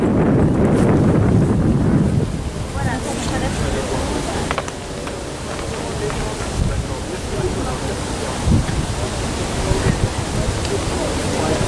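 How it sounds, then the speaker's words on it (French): Gusty wind buffets the microphone outdoors at an autumn plant fair in the grounds of the Domaine de Chantilly, a loud continuous rumble, heaviest in the first two seconds, with voices talking faintly underneath. "mais vous avez oublié de dire qu'il y avait du vent"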